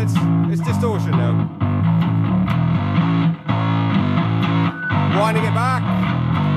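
Bass guitar driven through a tube overdrive prototype switched to germanium diode clipping, giving a loud, continuous distorted bass line of repeated punchy notes with brief pauses between phrases.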